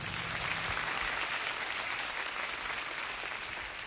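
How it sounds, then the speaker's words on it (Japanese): Audience applause at a rap battle in a Japanese MC battle championship, a dense, steady wash of clapping and crowd noise that holds loud and even throughout. "8 小節2本、どちらか一方に拍手をお願いします。"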